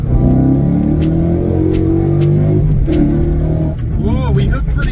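Car launching hard on a BAMA 93 race tune with slight wheel spin, a loud engine roar climbing in pitch under continuous excited talking, then a brief dip and rise as it shifts.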